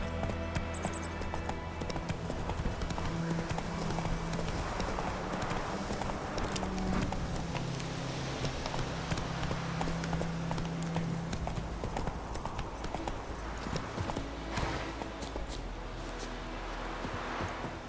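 Roach the horse gallops in The Witcher 3, with rapid, continuous hoofbeats close up over a dense bed of game ambience and music.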